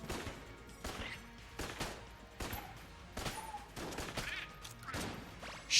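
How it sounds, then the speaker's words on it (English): Winchester rifle fire in the twin-stick dungeon shooter Enter the Gungeon, a steady run of sharp in-game shots roughly every half second over continuous game music and effects. "Let's use the Winchester rifle for a while"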